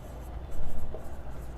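Brief scratchy strokes of writing on a classroom board, a few quick marks heard up close.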